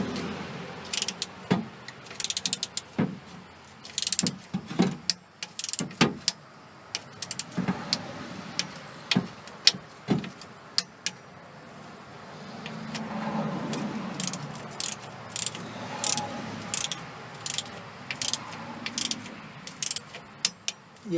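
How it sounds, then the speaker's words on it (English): A torque wrench tightens bolts on a transmission pan in a crisscross pattern, with a series of sharp clicks and ratcheting snaps spread unevenly over a quiet mechanical background, close and distinct. "You'll hear that little click when you're at the right torque."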